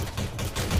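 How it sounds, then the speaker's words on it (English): Shotgun blasts in a space-combat video game, loud, sharp and close, in a short run of reports. "Shots are being exchanged at Alpha. Ah, this guy's got a shotgun."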